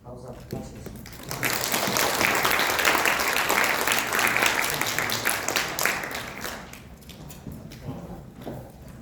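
Audience members at an admissions information session applaud in a full, sustained round of clapping that builds quickly, holds for several seconds and then tapers off.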